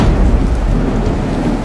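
A stormy ocean under heavy rain and rumbling thunder makes a loud, steady, dense roar with no voices.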